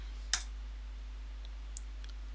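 Computer mouse button clicked during a Windows 7 installation, one sharp close click followed by a fainter second click a moment later over a quiet steady hum.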